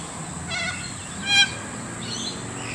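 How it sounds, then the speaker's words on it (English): Corellas in Moorooka, Australia, give a few short, harsh calls of moderate loudness over steady background noise, with one louder squawk near the middle. "Beautiful birds."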